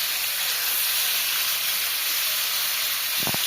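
Food frying in a pan in a home kitchen gives a steady, fairly loud hiss and sizzle throughout, with a short low thump near the end.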